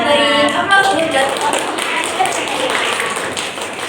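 A classroom breaks into steady, dense clapping that follows a voice at the start and carries on evenly to the end.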